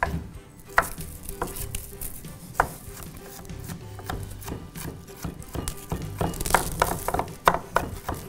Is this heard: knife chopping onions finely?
yes